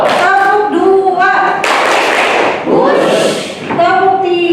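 A class of participants in a teacher-training session claps hands in a short counted burst. Several rough claps sit between stretches of talk.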